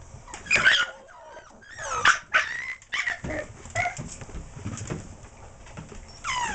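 A dog gives several sharp barks and yelps at an earthdog training session, loud and close, in irregular bursts over background noise.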